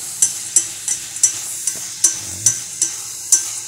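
Chili pieces fry in hot oil and are stirred with a utensil for a spicy stir-fried freshwater shrimp dish, giving about ten sharp, evenly spaced scraping clinks over a soft sizzle, close and without talk.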